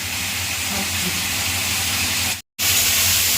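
Loud, steady sizzling hiss of potato and raw banana frying in a pan, continuous close up, with a brief cut to silence near the end before the frying resumes.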